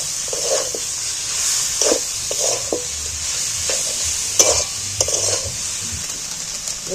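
A pan of jackfruit curry sizzles steadily while a spatula scrapes and stirs in repeated strokes, with some clinks against the metal.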